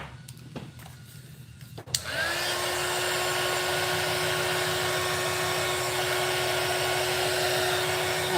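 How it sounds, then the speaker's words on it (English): A heat gun switches on after a couple of clicks and blows in a steady, loud, close whir to smooth out material, running alone without talk. "to smooth it out, I take the heat gun and allow the heat gun to do what it needs to do"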